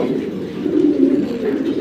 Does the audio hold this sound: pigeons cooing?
yes